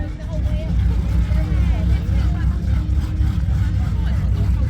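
A racing powerboat's engine drones steadily and loudly during an offshore race around an island, with a voice talking over the constant rumble.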